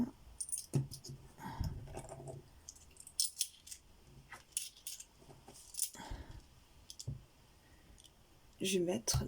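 Coins clinking and clicking close by as they are dropped into a paper savings envelope, in scattered bursts of metallic taps and rattles, with quiet rustling between them.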